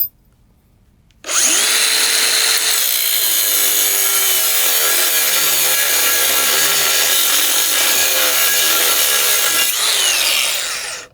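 A DeWalt 20V MAX XR cordless grinder cuts through half-inch steel angle with a loud, steady, harsh grinding screech. It starts abruptly after a brief quiet moment and holds for about ten seconds without stalling before it winds down.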